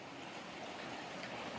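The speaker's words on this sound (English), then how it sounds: "there's like a little river or stream flowing through here" A small stream flows through a forest in the Vallee de Mai nature reserve on Praslin, Seychelles, a steady broadband rush of water that runs unbroken and fairly faint.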